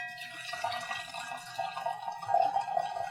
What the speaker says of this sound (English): I'm going to serve this tea or pour this tea now.